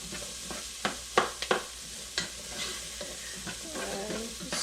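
Carrots frying in olive oil in a pan for white bean and ham soup, a soft steady sizzle broken by several sharp utensil knocks and scrapes as they are stirred, quiet and close.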